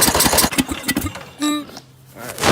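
A very old lawn mower engine with a carburetor problem, loud and close, sputtering into a rough, uneven run that falters and drops off after about a second and a half, with a voice talking over it.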